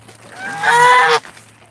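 A domestic goose honks once, loud and close, a nasal blaring call lasting about half a second over quiet background.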